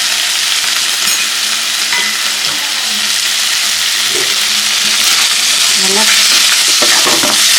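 Mutton pepper fry with onions sizzles loudly and continuously in a pan, close up, with stirring scrapes dotted through and a brief spoken word over it.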